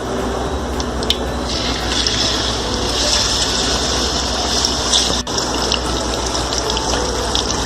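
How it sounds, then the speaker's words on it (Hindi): Beef pieces go into hot oil for deep frying, raising a loud, steady, dense sizzle and bubbling that stays up close and continuous throughout. "ऑयल हमारा अच्छे से गर्म हो चुका है। अब इसमें डालेंगे ये गोश्त।"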